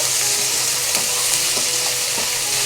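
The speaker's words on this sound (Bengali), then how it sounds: "এবার আমি কয়েকটা মাশরুম দুফালা করে কেটে দিয়ে দিচ্ছি আবার একটু নাড়াচাড়া করতে হবে" Halved mushrooms and chicken sizzling and being stirred in a pan for a vegetable sauté, a steady bright frying hiss with occasional scrapes and taps of the spatula, no talking.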